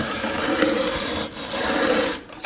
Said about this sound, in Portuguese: Para quem nunca moeu o cafezinho, coloca o cafezinho aqui dentro